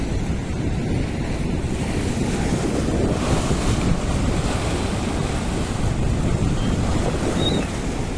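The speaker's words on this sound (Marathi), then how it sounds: "एवढं भयानक पाणी चाललंय विचारू नका" Floodwater surging over a road near Veer dam after heavy rain, a loud continuous rushing roar with wind buffeting the microphone, steady and close throughout, no voices.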